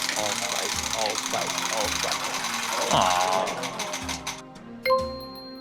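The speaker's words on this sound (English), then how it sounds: "we're gonna have Shaundai spin the wheel" A game show prize wheel spins with a rapid, slowing clatter of ticks under background chatter, then comes to a stop.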